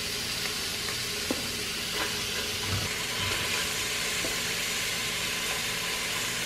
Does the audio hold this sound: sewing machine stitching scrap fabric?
no